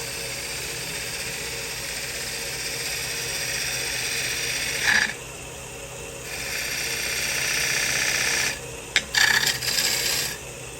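A bowl gouge held at a steep angle and riding the bevel makes a very light cut on a wood bowl spinning on a lathe, giving a steady close scraping rasp that pauses briefly twice before resuming.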